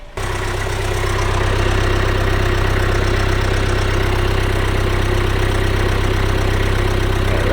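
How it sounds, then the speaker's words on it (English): A van engine idles steadily close by after starting up, a loud, even low hum with a regular mechanical pulse that holds unchanged to the end. "I'm going to run the engine for a little bit"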